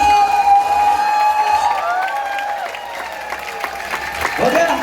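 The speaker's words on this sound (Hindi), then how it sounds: "एक बार जोरदार तालियां, एक बार जोरदार" A large indoor audience claps loudly and continuously at a leadership program event, with cheering and shouts mixed in and a sustained tonal hum underneath.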